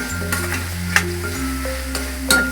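Spices being stirred in hot oil in a pan for homemade veg pulao, with a steady close sizzle, scraping stir strokes and a few sharp clinks of a spoon against the pan, with no talking.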